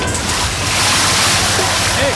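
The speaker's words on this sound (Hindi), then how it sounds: "जाके पंप से पानी छोड़ो" Water released from a pump rushes into a farm field through a broken canal wall, a steady loud broadband roar like surf that fills the whole clip with no pause.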